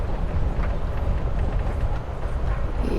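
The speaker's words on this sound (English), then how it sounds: "You're on a freaking train with Rachel freaking Amber" Steady rumble of a moving train inside Life Is Strange Before the Storm, a loud, continuous low rattle and roll with faint rhythmic clatter throughout, no voices.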